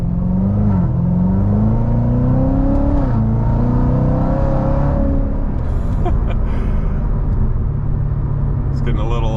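A C7 Corvette Z06 (Z07 package) roars as it pulls away from a standstill, rising in pitch through gears with a loud, continuous exhaust note.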